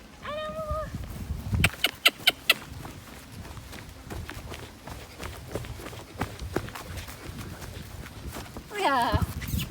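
Horses walk down toward a stream at a stable, their hooves clopping in scattered sharp knocks close by, with voices talking and a whinny-like call at the start and end.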